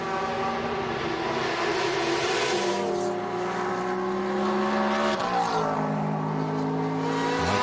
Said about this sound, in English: It just went by the American-based Krone Racing Ferrari, still holding down 3rd place and a podium spot in GTE Amateur.